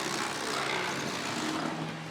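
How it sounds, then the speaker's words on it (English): HO-scale model railway track cleaner car running on a layout, a steady close buzzing drone with broad noise that holds evenly for about two seconds. "Now I'm running this track cleaner."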